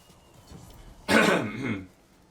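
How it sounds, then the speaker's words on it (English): A man clears his throat once in a single rough, forceful burst lasting under a second, close and loud against a quiet background, with no talking. "Sorry I keep clearing my throat."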